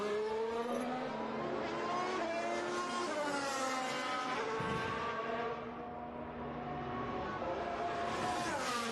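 Lewis Hamilton's Formula 1 car on fresh soft tyres during qualifying-style practice at the 2021 Mexico Grand Prix: a loud, continuous high-revving engine scream climbing through gear changes, with a brief dip mid-run, close and dominant throughout.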